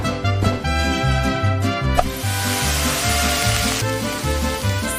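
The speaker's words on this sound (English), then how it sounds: "Sizzle, sizzle!" Cartoon meat sizzling in a pan for Mexican tacos, a bright hissing fry layered under loud, bouncy children's music that plays throughout.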